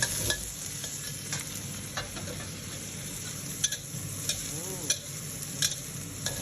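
Garlic and chili stir-fried in a wok, a continuous close sizzle broken by irregular spatula scrapes and clinks against the metal.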